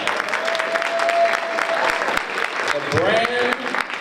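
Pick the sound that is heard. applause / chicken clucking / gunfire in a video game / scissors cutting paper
applause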